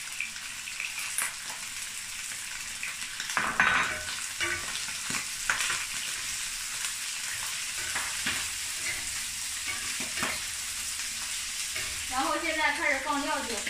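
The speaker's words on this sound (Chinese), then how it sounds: "把鸡块炒的微黄，然后放入葱姜蒜。" Browned chicken pieces stir-fry with scallion, ginger and garlic in a hot wok, giving a steady loud sizzle broken by scraping strokes of the spatula; a voice is faintly heard at moments.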